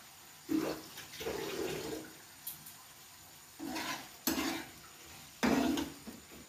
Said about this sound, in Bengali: এই যে একটু হালকা জল দেওয়া হচ্ছে যাতে মাংসগুলো একটু সিদ্ধ হয়ে যায়